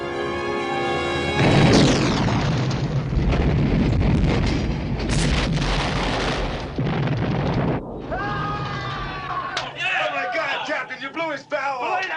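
A torpedo explosion tears off a destroyer's bow as a film effect: a loud, sustained blast and rumbling boom lasting several seconds, then a sudden drop into creaking, groaning metal and scattered debris noises.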